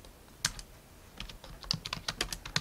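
Quiet, close keystrokes on a computer keyboard, an irregular patter of clicks with a short pause before a quicker run of typing.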